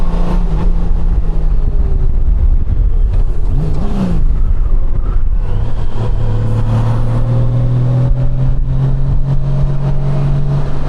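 A 2025 Honda Goldwing motorcycle on a dealer test ride, its engine droning loud and steady throughout, with a rising tone near the middle and wind rush constant.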